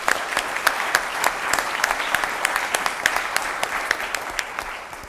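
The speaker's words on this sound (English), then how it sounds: "So let's give them a round of applause." An audience at a town council meeting applauding steadily, dense clapping with scattered sharper claps standing out, sustained for several seconds without any voices over it.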